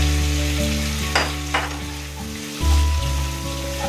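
Potatoes and pointed gourd fry in a spice paste, a loud close sizzle with a few sharp stirring bursts and a low steady hum underneath, and no voices.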